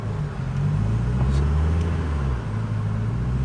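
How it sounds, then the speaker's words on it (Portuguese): Car engine idling low and uneven during a driving lesson, a deep rumbling hum that sags and wavers as if about to stall, close and steady with no talk. "Por que que o carro tá morrendo?"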